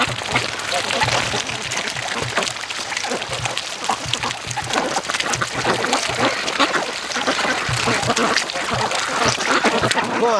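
Free-range ducks at a lake quacking continuously in a busy flock, close and loud with overlapping calls and some splashing, while someone speaks over them.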